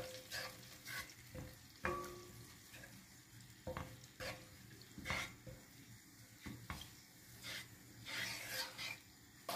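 Tomato sauce being stirred in a pan for a leek dish, with a spoon scraping and tapping through a soft oily sizzle in irregular strokes, fairly quiet and close, with no talking.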